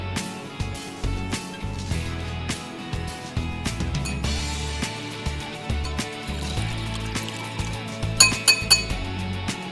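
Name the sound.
mixing shrimp with cornstarch in a bowl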